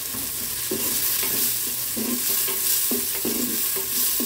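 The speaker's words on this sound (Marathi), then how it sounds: "मस्त कांदा छान लालसर होईपर्यंत चांगला भाजून घ्यायचा आहे" Chopped onion frying and being stirred in hot oil in a pan for a Khandeshi kala masala chicken, a steady close sizzle with repeated scraping stir strokes and no talking.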